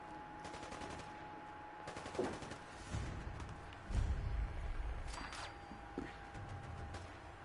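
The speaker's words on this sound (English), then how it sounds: "I hear people shooting." Bursts of automatic gunfire crackle in Fallout 4, rapid volleys rising at intervals over a steady ambient bed, with no talk during the shooting.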